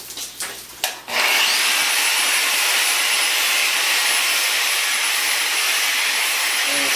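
Wet polisher grinding and polishing a stone bowl from Schroon Lake at slow speed, a few brief scraping starts followed by a steady, loud, continuous whirring grind that holds unchanged to the end.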